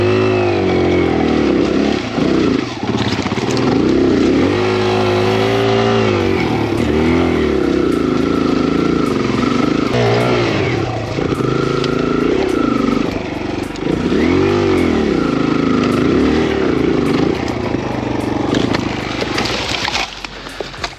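Kawasaki KLX 140RF dirt bike on a hard enduro hill climb: the small engine revs loudly and continuously, rising and dropping in repeated throttle bursts over about twenty seconds, close to the rider with no talk.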